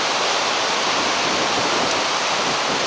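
Iguacu Falls in Brazil roars as a massive waterfall, a thick constant rush of water that fills the air, loud and unbroken, with no voices.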